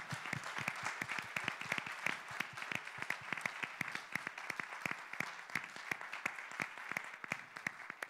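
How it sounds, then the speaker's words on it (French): Steady applause from an audience at a university science communication contest final, many hands clapping continuously at a moderate distance, sustained without a break and fairly quiet overall. "merci de les applaudir"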